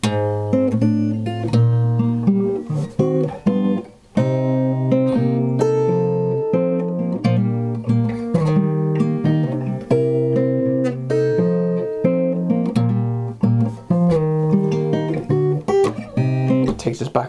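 Fingerstyle acoustic guitar plays a melodic line from a song with plucked notes and bass picked together, steady and close, with no voice over it.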